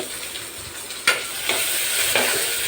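Onion sautéing in oil, a steady bright sizzle with a few distinct stirring scrapes of the spoon, close up and with no one talking.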